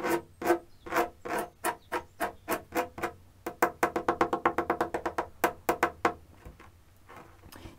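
Knuckle taps on a fabric-covered wooden pavise shield over an air gap, a long run of sharp hollow knocks, first spaced, then quick and even, then slowing again, close and clear.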